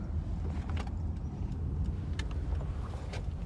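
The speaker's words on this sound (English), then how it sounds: "I'm pulling into the bank now" A car pulls into a bank parking lot, its steady low engine rumble and road noise filling the scene at close range, with a few brief clicks and rattles from inside the cabin and no talking.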